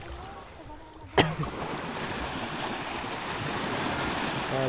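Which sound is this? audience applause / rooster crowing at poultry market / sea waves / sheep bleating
sea waves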